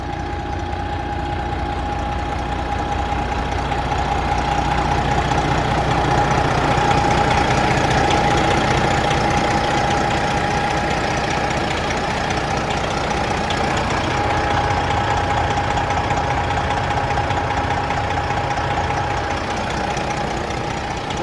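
Freshly overhauled diesel engine in a 2015 Peterbilt 389 factory glider truck idles hot with a steady, loud, even rumble and faint knocking rhythm, unchanging throughout with no other sounds.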